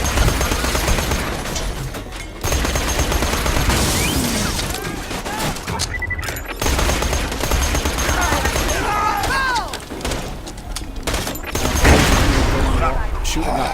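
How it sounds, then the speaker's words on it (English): Repeated gunfire in Borderlands 2 as a barrel is shot, dense bursts of shots and impacts running through the whole stretch amid loud game effects, with someone talking over parts of it. "Right, so shoot the barrel up there."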